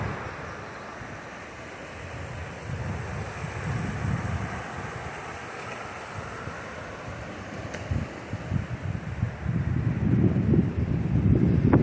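Gusty wind at a riverside campsite in the Tellico River Gorge, a steady broadband rush with rumbling buffets on the microphone that swell louder toward the end, no voices.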